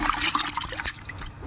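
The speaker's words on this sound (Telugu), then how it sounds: "శుభ్రంగా బకెట్లో పెట్టుకొని కడుక్కోవాలండి." Water splashes and sloshes in a bucket as soaked sorghum grains are washed by hand in a home kitchen, a steady moderate wet churning with small trickles throughout.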